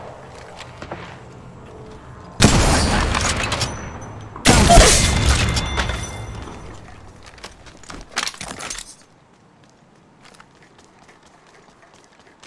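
Gunfire in Apex Legends, played on an iPad, comes in two loud, dense bursts of rapid shots with rattling debris, then trails off into quieter clicks and near silence.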